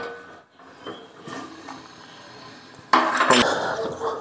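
A metal lid clanks down onto a pot of chicken cooking on the stove, a sharp bright clatter near the end after quiet, faint rattling.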